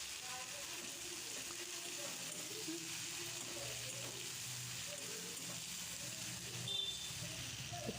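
A paste of ground cumin, ginger and coriander fries in a pan with spices, making a soft continuous sizzle and hiss that is quiet and close, with faint scraping and stirring and a brief louder flare near the end.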